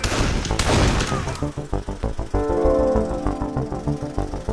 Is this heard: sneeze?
no